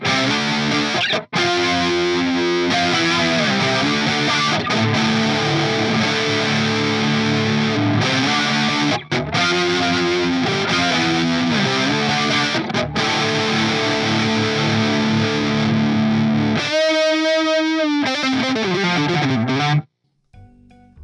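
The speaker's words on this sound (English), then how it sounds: "if you want like a chorusy, distorted kind of sound" Electric guitar played through distortion and a Pogolab chorus pedal (Boss CE-2 clone) with a shimmering chorus effect, loud and sustained, ending in a wavering held note before cutting to silence.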